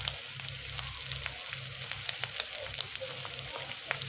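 Plain fish roe fritters, made without gram flour, flour or potato, frying in oil with a constant close sizzle and scattered small pops and crackles.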